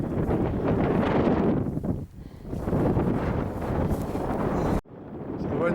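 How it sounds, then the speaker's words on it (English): Strong southwest wind roars and buffets across a Scottish hillside near Beinn Domhnuill, above Loch Earn. The gusts are loud and nearly constant, with a brief lull and a sudden drop near the end. "So the wind's coming in from the southwest."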